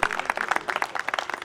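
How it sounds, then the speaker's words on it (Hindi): An audience at a Lok-Rang folk performance programme at JKK Jaipur bursts into vigorous applause, many hands clapping in a dense, loud, irregular patter that continues steadily. "एक बार इनके सम्मान में जोरदार तालियां जरूर बजा दें"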